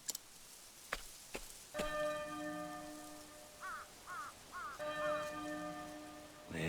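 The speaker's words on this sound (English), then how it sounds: "There's the bell again." Church bell ringing in the rain in Octopath Traveler, several resonant tolls with long ringing tails over soft steady rainfall, with a few sharp knocks early on and no voices.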